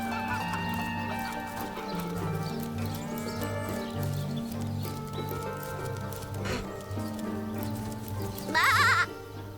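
Sheep bleat in the video game Divinity Original Sin, a few short bleats over a steady layer of game music, with one louder bleat near the end.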